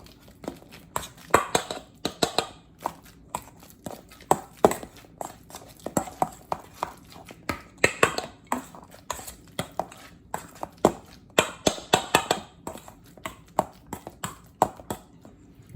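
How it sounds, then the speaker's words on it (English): Bananas being mashed into a puree by hand, a steady run of soft, wet thumping strokes in quick uneven rhythm, close and fairly loud, with no talking. "So we want to mash these bananas almost like a puree."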